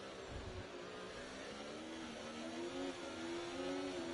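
A Ferrari race car in a racing game at Monza holds a loud, steady engine drone that climbs gently in pitch as it accelerates, with no voices over it.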